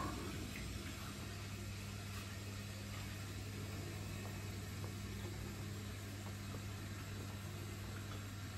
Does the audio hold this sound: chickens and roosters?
no